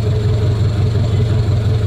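A vehicle fitted with a B8 engine idles steadily, a deep, continuous rumble heard close and loud for the whole stretch with no voices over it.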